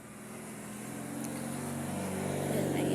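A car drives along a road at night near a school in the Philippines, its engine a steady low rumble that grows slowly louder over a constant broadband road hiss, with no voices.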